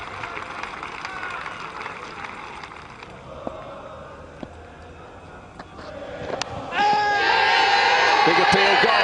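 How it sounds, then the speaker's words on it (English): Crowd of English cricket supporters at a New Zealand v England Test match in 2008 cheering, a loud swell of voices that rises sharply near the end and holds, over steady ground ambience with commentary-like talk beforehand. "Big cheer from English supporters."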